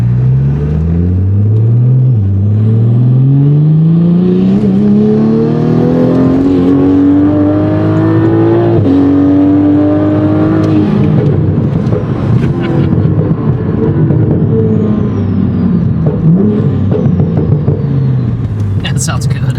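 A Toyota Supra with an aftermarket exhaust revs up in a rising, sustained roar, then settles into a deep, crackling rumble. It is loud and close, with people talking faintly over it.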